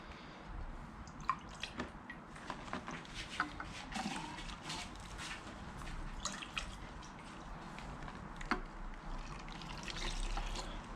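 Diesel fuel rinsing foam out of an engine's air intake during a hydrogen-free decarbonizing cleaning, a steady wet trickling and dripping with scattered small splashes and squishes running throughout.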